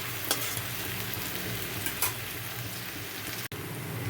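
Fish bones fry in a pan with a steady, soft sizzle and a couple of faint clicks. No one speaks.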